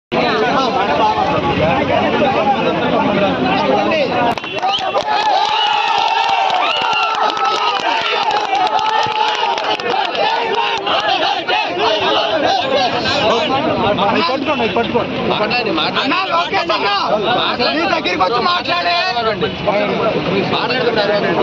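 A large crowd of police aspirants at a street protest in Kakinada makes a dense, loud roar of shouting and babble that runs on without a break, with voices overlapping throughout.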